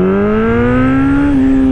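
A 2015 Honda CB1000R motorcycle engine accelerating hard, its loud, close tone rising steadily in pitch with a small dip near the end, and no voices.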